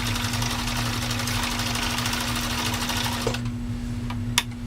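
A Husqvarna Type 2000 sewing machine, freshly repaired, runs a straight stitch with a steady, even motor hum and rapid needle clatter. It stops near the end, leaving a few faint clicks.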